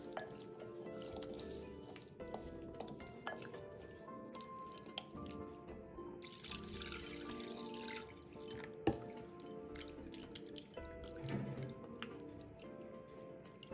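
Raw pork ribs are rubbed and squished by hand in a bowl of clean water, giving soft wet squelches, drips and splashes in an irregular rhythm, close and fairly quiet.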